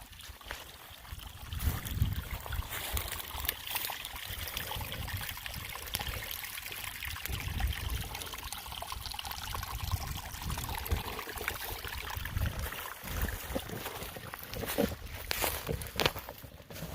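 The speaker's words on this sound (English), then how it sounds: "Here you see the Tiny Creek Rapids." Small rapids on a tiny Iowa creek near Big Creek Lake, heard as steady broadband trickling and rushing water from close by, continuous throughout with faint footstep-like thumps mixed in and no talking.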